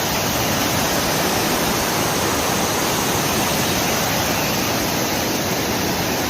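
A steady, loud, unbroken roar of fast-flowing water rushes at Anaikarai dam in Tirunelveli district, close and continuous with no voices.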